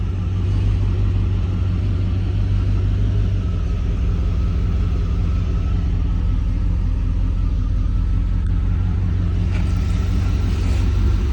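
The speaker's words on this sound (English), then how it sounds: "Formula Firebird running and driving." A 1989 Pontiac Firebird Formula, an original low-mileage car, idles with a steady low rumble, loud and close. No one speaks over the engine.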